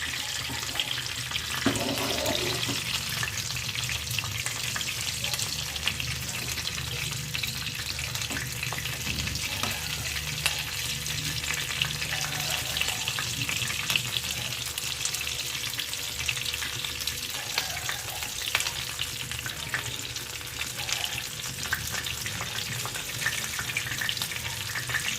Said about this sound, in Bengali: পনির স্যাটেগুলো ঘুরিয়ে ঘুরিয়ে ভেজে নিতে হবে